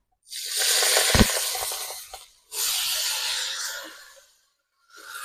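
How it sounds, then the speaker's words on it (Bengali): Washed vegetables hit hot oil in a village-style pan, setting off a loud, close, hissing sizzle in two long surges and then a third starting. Short quiet gaps separate the surges. "দিয়ে দিলাম সবজিগুলো তেলের মধ্যে"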